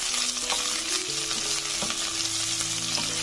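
Capsicum cubes sautéing in a pan, a constant close sizzle and crackle with a few light stirring scrapes, no voices.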